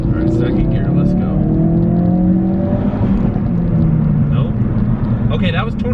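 A stage 2 tuned Ford Focus RS accelerates through second gear, a sustained loud engine drone that climbs in pitch, heard from the cabin with speech over it.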